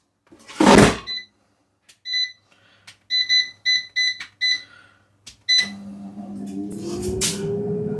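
An air fryer beeps as it is set for 20 minutes: a run of short, clear electronic beeps in an uneven rhythm, followed by the steady hum of the fan starting up.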